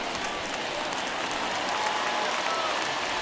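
Stadium crowd in MLB The Show 21 rising to its feet during a Padres–Marlins game in Miami, a steady, dense roar of cheering and applause throughout with no clear talk over it.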